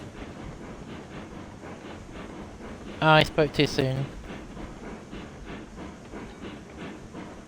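A locomotive runs in the railroad video game Railroads Online, its steady, rhythmic rolling chug continuing under a man's casual speech, with a brief louder tonal burst partway through.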